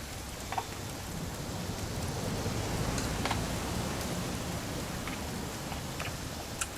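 Steady rain in What Remains of Edith Finch, a continuous hiss of falling water with a few soft drip accents, even and unbroken throughout.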